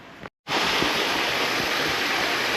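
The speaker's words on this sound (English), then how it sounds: "we got a little waterfall right here" A small waterfall on a South Dakota hiking trail rushes in a steady, loud wash of water after a brief cut to silence near the start.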